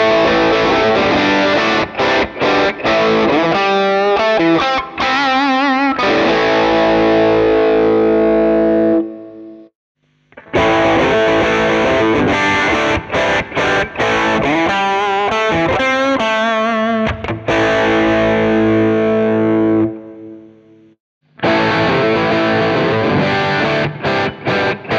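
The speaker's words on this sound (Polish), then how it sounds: "gitara elektryczna brzmi znacznie lepiej na dużej głośności, to znaczy gdy nasycimy nasz wzmacniacz lampowy" Loud, heavily distorted electric guitar through a saturated tube amplifier, playing sustained chords and riffs in two long phrases separated by brief pauses, with no voices.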